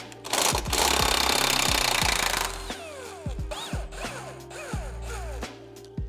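Power tool loosening Corvette C5/C6 leaf spring bracket bolts, a loud continuous rattling burst for about two seconds, then a string of shorter impact bursts and clanks nearby.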